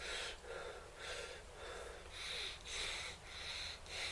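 Deep thoracic breathing shown as a demonstration, with rhythmic close breaths repeating about every half second, quiet and with no talk.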